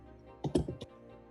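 A short burst of a few keystrokes on a computer keyboard while code is typed, quiet and close, with a small cluster of clicks and then nothing.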